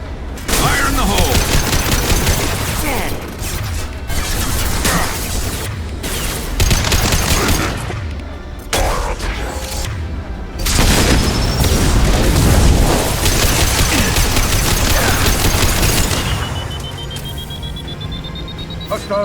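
Grenade blasts and rapid gunfire in Mass Effect 2 Legendary Edition's Shadow Broker DLC: loud booms and bursts of automatic fire crowd together, with short pauses and a high electronic whine in the combat.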